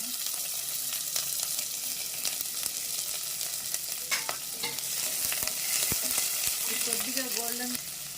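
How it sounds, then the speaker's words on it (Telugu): Chopped onions frying in a hot-oil tempering with mustard seeds, a continuous loud sizzle and hiss with occasional stirring scrapes, steady and close throughout. "ఇప్పుడు కట్ చేసి పెట్టుకున్న ఎర్రగడ్డలు వేసేద్దాము"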